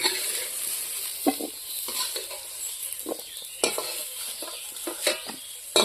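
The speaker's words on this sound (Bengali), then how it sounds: "এখন আমি এসবটা ভাজি নিব" Jackfruit and egg fry and sizzle steadily in a hot pan while a utensil scrapes and stirs them in irregular strokes, close up.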